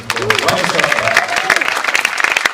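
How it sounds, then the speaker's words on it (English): An audience greets a guest with loud, close applause as clapping mixes with cheering and overlapping voices throughout. "So this needs a big round of applause."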